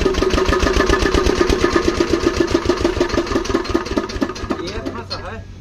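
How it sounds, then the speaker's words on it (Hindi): Repaired engine running after being started at half handle, a loud rapid even chugging that slows and fades toward the end, with a brief voice near the close. "फिर जाके ये इंजन जो है स्टार्ट हुआ है हाफ हैंडल में"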